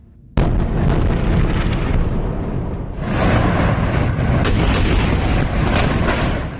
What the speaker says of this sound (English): Overnight, Gaza has been rocked by explosions.